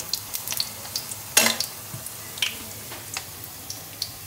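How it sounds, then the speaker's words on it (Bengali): Bread pieces frying in a mix of ghee and oil, a soft steady sizzle with scattered crackles and one louder burst of spattering partway through, close by and with no talking. "ঘিয়ের মধ্যে এখন এই যে পাউরুটির টুকরাগুলো দিয়ে দিয়ে ভেজে তুলতেছে।"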